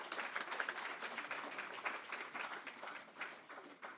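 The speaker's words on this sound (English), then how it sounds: "Yeah, round of applause." An audience at a family information night game claps for several seconds, a fairly faint, dense patter of many hands.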